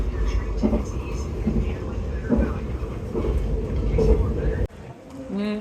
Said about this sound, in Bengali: ট্রেনে উঠে বসলাম।